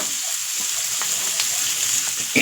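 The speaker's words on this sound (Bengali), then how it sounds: "এইগুলো একটু হালকা ব্রাউন ব্রাউন হবে, ততক্ষণ আমি ভাজবো।" Onions and capsicum fry together in a pan, giving a steady close hiss with faint crackles throughout, no voices.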